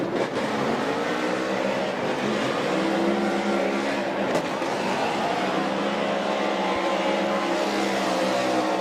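Ford Performance Mustang RTR Spec 5D drift car engine at Formula Drift Lake Erie Speedway, a loud sustained high-revving roar with harmonics bending up and down as the throttle changes, heard from trackside without pause.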